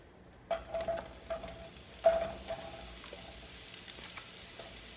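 Mushrooms go into a pan of olive oil with a couple of soft clattering drops, followed by a faint, quiet sizzle with light crackles, heard up close and without speech.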